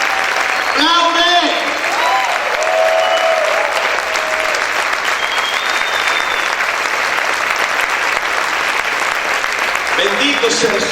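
A church congregation claps hard and continuously during worship, a thick, close wall of applause with scattered shouts and voices rising over it throughout.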